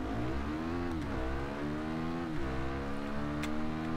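A Husqvarna motorcycle in a racing video game accelerates off the line, its engine rising steadily in pitch with two quick dips at gear changes, loud and continuous throughout.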